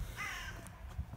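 A crow caws once or twice at a distance along the Ben Lomond hill path near Loch Lomond in the early morning, short harsh calls standing out faintly over quiet outdoor background.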